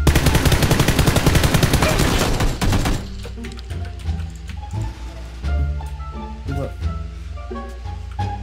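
Gunfire in PLAYERUNKNOWN'S BATTLEGROUNDS (PUBG), a rapid automatic burst of loud shots followed by scattered single reports and faint in-game movement, with a player's voice talking over it.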